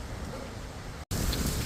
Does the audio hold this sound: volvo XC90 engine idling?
no